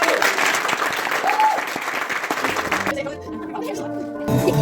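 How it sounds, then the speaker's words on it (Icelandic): Audience clapping fills the first few seconds after a singing workshop, then thins out into a music-like sustained tone with clapping resuming faintly at the close, and voices mixed in. "Ef við gefa öllum gott klapp fyrir"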